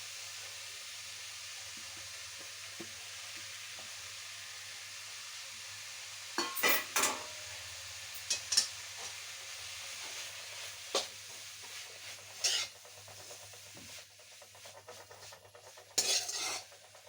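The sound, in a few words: grated coconut stirred into bitter-gourd leaf thoran in pan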